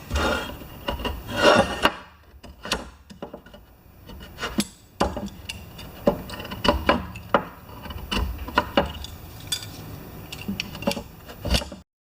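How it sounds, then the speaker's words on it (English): A sharp knife peels a homemade gasket off a Homelite lawn mower part, giving close, quiet scraping and rasping strokes with irregular clicks and taps, no voices. "we're going to peel this gasket off of here with our sharp knife"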